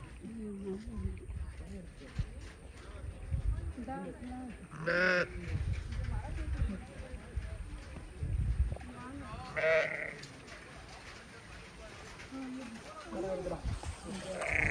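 Sheep bleat intermittently on a farm in Kodaikanal, several distinct calls rising over a busy outdoor background with someone talking throughout.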